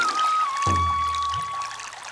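Water pours out of a pitcher in a short, close gush with a gurgling splash, over a faint steady background tone.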